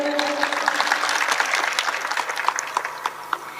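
An audience at a saints' gathering in a temple applauding, a dense, sustained patter of many hands clapping for several seconds, with a voice faintly underneath.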